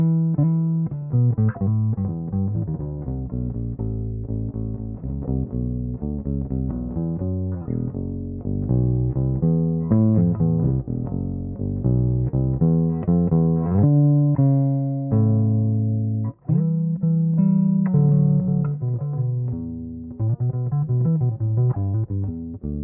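Bass guitar played through a mudbucker pickup, giving a deep, warm, continuous line of plucked notes with a smooth rolling rhythm and a brief break near the end, close and alone with no voice.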